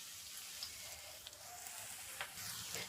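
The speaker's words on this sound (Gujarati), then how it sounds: "જો તેલમાં છે ને તળાય છે" Aloo tikki, patties of boiled potato bound with cornflour, fry in oil over medium heat, giving a soft, steady sizzle with faint crackles, heard quietly and alone.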